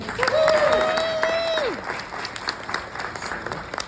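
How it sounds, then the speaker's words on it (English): An audience at an awards event applauds steadily while a whistle rises and holds, then the clapping thins and fades. "Can we give one more round of applause for iHeartRadio?"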